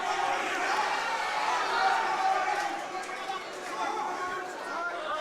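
At a live MMA event, a large crowd roars and chatters continuously, with a dense, sustained wash of voices filling the space without pause.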